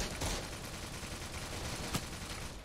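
Gunfire rings out in the battle royale video game Proxima Royale, with faint, distant-sounding shots, including a burst near the start and a sharper crack later. They sit over a low, steady game ambience.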